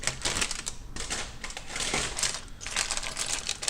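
A plastic bag of Lego pieces for a '69 Chevy Camaro build crinkles and rustles up close in quick, clicky bursts, with small pieces rattling inside and no talking.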